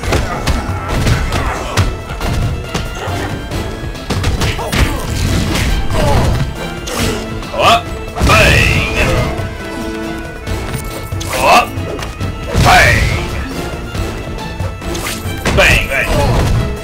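Punches and knockdowns in the Spider-Man: Friend or Foe video game, a series of loud smashing thumps and crashes with whooshing effects, over game music and a player's excited talk.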